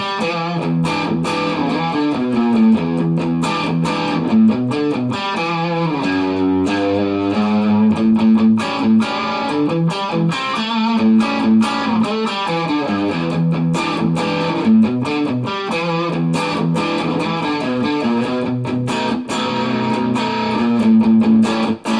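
A distorted electric guitar plays a beginner-to-intermediate blues riff with a swung triplet feel at full tempo, steady and loud for over twenty seconds with repeated phrases and no talking.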